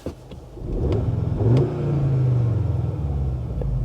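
A 2022 Audi S3 with its engine sound mode set to present revs from idle, a low rumbling engine note rising and then holding steady, close by with no one talking.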